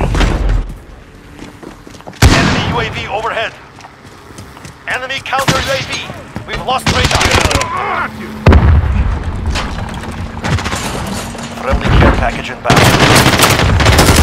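Gunfire and explosions fill a Call of Duty: Modern Warfare match, with loud bursts of automatic fire, booming blasts and sharp shots coming in clusters, while a player and in-game voices call out over the battle.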